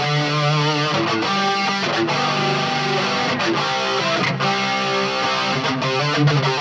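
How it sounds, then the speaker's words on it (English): Electric guitar with heavy distortion and a shimmering chorus effect, playing sustained chords loudly and continuously. "So if I need a distortion with chorus,"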